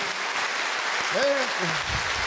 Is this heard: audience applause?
yes